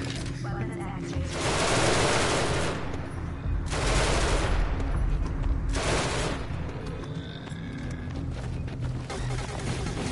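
Sustained bursts of weapon fire aimed at hostile life forms aboard a spaceship in the game Genesis Alpha One, with three dense, loud volleys separated by short gaps, set against a steady game soundtrack.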